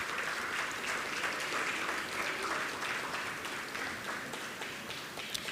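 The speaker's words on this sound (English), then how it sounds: "Please give her a round of applause as she comes." Steady applause fills a primary school graduation ceremony, with many hands clapping densely and evenly at moderate distance and no talk over it, easing off slightly toward the end.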